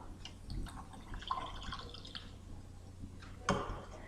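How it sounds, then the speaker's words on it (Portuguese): Water is added to a glass holding sand, producing soft, irregular trickles and drips at close range, with a few brighter splashes over a low background hum. "vou pegar esse copo aqui com areia, eu tenho areia aqui dentro, e vou adicionar nele um pouco de água"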